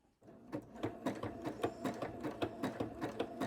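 New sewing machine stitching fabric strips for a rug, a close, rapid rhythmic clatter of the needle mechanism that starts after a brief silence and runs steadily with no talking.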